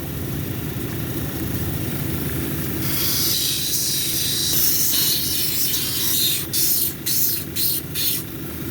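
A lapidary grinding machine hums steadily, then a wet hissing grind begins as a Sarape jasper cabochon is worked on a 220 grit wheel, broken by several short pauses near the end, with no talk.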